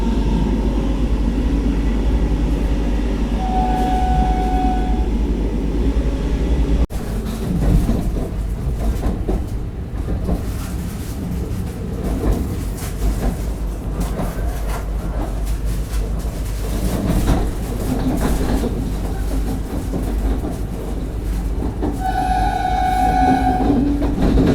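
A Vande Bharat Express train on the Mumbai–Jalna route rumbles along continuously with rattling wagons, and a horn sounds briefly near the start and again toward the end.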